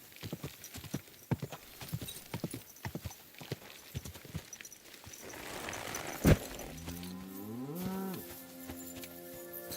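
A horse in Kingdom Come Deliverance II trots with rhythmic hoof clip-clops, then a louder burst of livestock noise, cattle lowing, and a drawn-out whinny-like call follow.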